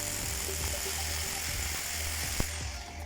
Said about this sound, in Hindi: मार्किंग हो गई है, अब ड्रिल की जाएगी।